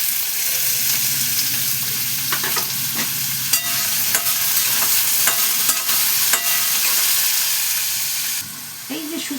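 Small diced potatoes fry in a hot pan for a bitter eggplant and potato dish, giving a steady close sizzle throughout with occasional scraping and stirring clicks.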